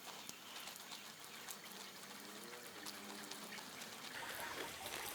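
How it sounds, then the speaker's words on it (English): A garden hose spraying water over a backpack outdoors, a soft steady hiss and spatter, fairly faint and continuous, with no voices. "just hose this thing down"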